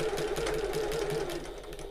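A domestic sewing machine running steadily through a short stretch of back stitching while sewing a shoulder bag, its motor a continuous close, even whir with a rapid mechanical needle rhythm and no talking.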